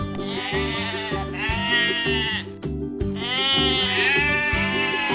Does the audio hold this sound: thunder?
no